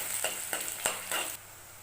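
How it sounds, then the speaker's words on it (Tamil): Onions sizzle and get stirred in a hot pan while cooking brinjal masala, with a few quick scraping strokes over a steady fry before the sound drops off. "நல்லா வெங்காயம் வதங்கி ஒரு கோல்டன் கலர்ல வரணும்"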